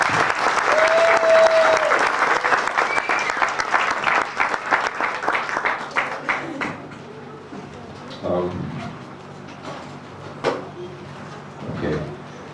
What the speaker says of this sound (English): give Twyla another nice round of applause?